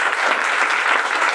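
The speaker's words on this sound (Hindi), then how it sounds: "उनका नाम आया है तो सबको ताली बजानी चाहिए।" An audience claps together at a business leadership event, a steady, dense burst of applause filling the room without a break and with no voices standing out.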